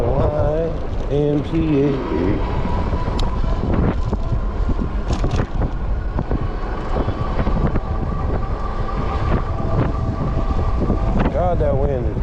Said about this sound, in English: God, that wind is picking up.